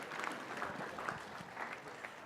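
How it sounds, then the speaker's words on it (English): A seated audience at a leadership academy talk applauds, a soft, steady patter of many hands heard from a distance and fairly quiet, with no voices over it. "All right, let's have some applause."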